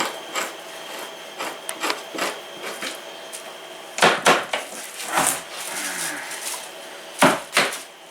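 Fat being scraped from an animal hide over a fleshing beam made of trimmed 6-inch PVC pipe, heard as irregular rasping strokes, some short and soft, others louder bursts in quick pairs, close up with no talk.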